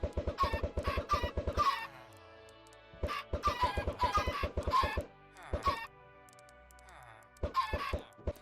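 Chickens at an automatic chicken farm in Minecraft cluck in quick bursts of repeated, blocky calls with short pauses between groups, close and fairly loud.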